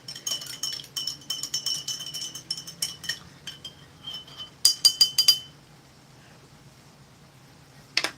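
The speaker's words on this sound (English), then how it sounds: "I'm just giving the orange drink another stir." A spoon clinks and rattles against the inside of a cup while stirring an orange drink, a quick run of bright metallic taps that pauses, resumes in a short burst, then falls quiet before a final couple of clinks.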